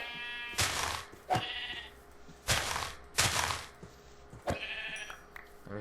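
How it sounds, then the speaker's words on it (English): Sheep in the Minecraft video game bleat in four or five short, separate calls spread across the moment, fairly close and clear, with faint game ambience between them and no talking. "let's go ahead and get some sheep for wool too."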